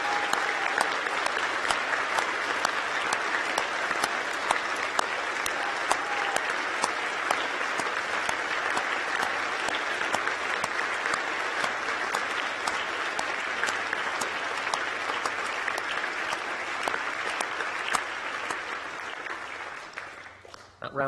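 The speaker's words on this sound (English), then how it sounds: "That round of applause was longer than it used to be before COVID" Long, sustained applause from a large audience at a University of York graduation ceremony, steady dense clapping that fills the hall for about twenty seconds before tapering off at the end.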